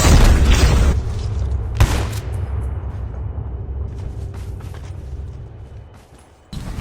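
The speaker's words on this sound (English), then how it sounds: "Supply drop inbound." Supply airdrop arriving in a battle royale shotgun match: a heavy boom opens loud, a sharp thump lands near two seconds, then a low rumbling drone fades before another burst at the end.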